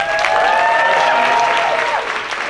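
Audience applause at a formal 2019 gala dinner, steady dense clapping from a large crowd filling the room throughout, with a faint voice and some tonal sound underneath.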